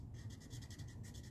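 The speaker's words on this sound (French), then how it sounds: "Fait que ici, je colore mon petit cerf" Blending markers scratch softly and steadily across paper as a small deer stamp image is colored in, a faint, close rasping in even strokes with no talk.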